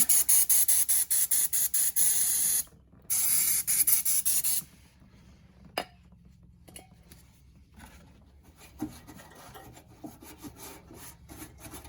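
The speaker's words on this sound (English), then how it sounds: "spray it off with a little bit of brake clean." Brake cleaner hisses from a spray can in a quick series of loud bursts during a Subaru Impreza oil change, then gives way to quiet rubbing and a few small knocks.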